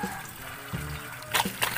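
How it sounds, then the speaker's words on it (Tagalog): Water pouring out of a koi pond filter at a Philippine koi farm, a steady broadband rush with brief splashy surges near the end, moderately close and without speech. "Tinaw gid siya kay gawas sa filter nagi gaagas nga gikan sa flowing."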